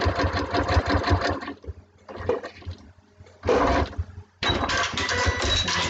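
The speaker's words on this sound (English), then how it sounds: "Press the needle in, press the foot down, and I'm going to sew along the line between 1 and 2." A sewing machine whirs in bursts as it stitches fabric along a seam line for a small foundation paper pieced letter M block, running loud and close with short pauses between runs.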